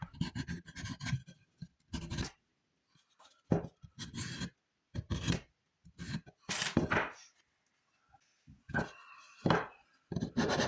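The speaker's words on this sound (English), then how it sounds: "Next, we take an old hacksaw blade, slide it down the edges," An old hacksaw blade is dragged along the edges of scrap wood to rough them up, giving short, dry rasping scrapes in irregular bursts separated by brief pauses.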